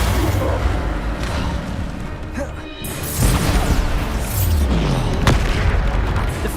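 Bombarda blasting spells burst in a Hogwarts Legacy fight, a string of loud booming crashes and smashes, with heavy impacts near 3 and 5 seconds amid constant clatter and game effects.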